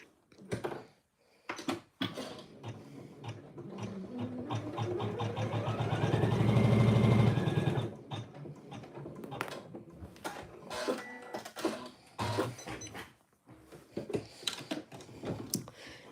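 Quilt pieces are stitched on a sewing machine, heard as a rising, steady motorized whir that peaks mid-clip, surrounded by sharp clicks and handling knocks before and after.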